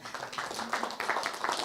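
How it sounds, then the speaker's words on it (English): An audience gives a short burst of clapping, a dense patter of many hands held briefly at even loudness. "Round of applause."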